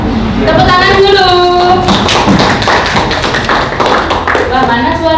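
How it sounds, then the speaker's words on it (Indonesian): An audience clapping hands in a room, a loud dense burst of overlapping claps, with a voice speaking over the start and again near the end. "Ya, tepuk tangan dulu."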